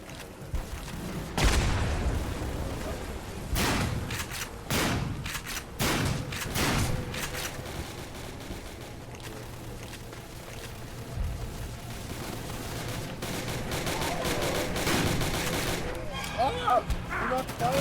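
Shotgun blasts in a video game: a series of loud, heavy booms spaced irregularly through a busy game soundtrack, with a voice talking over parts of it.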